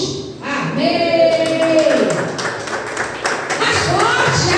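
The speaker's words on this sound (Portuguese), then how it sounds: "aplauda esse Deus maravilhoso" A congregation at a Christian worship service in Ananindeua claps in a loose, continuous patter of many hands while a loud voice speaks over it and sustained tones ring through the hall.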